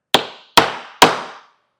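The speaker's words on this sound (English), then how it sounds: "I'm going to lay my hammer block over the side just like that, and I'm going to give it a few taps to center it" Hammer tapping a hammer block laid over the side of a large wooden DIY cajón: three sharp, evenly spaced knocks, each ringing briefly before fading, close and alone.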